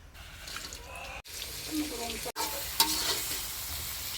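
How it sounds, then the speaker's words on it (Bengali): Prawns frying in soybean oil for a bottle gourd prawn curry, a loud close sizzle with scraping stirs and a splashy, watery texture, broken by two brief cuts. "প্রথমে সয়াবিন তেল, প্রথমে মাছটা ভাজ্যে নিম"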